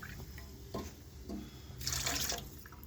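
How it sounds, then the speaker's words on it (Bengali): Water poured into a pressure cooker of chicken stew, a short, soft splashing gush close by against a quiet kitchen background. "এবারে আমরা জল দিয়ে দেবো।"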